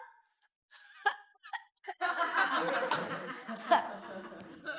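A short, sharp cough near 1 second, then a burst of chuckling and snickering laughter fills the rest of the clip, close and fairly loud.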